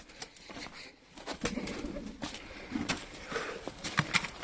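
Pigeons coo softly nearby, low throaty calls repeating among brief flutters and scattered clicks, fairly quiet overall.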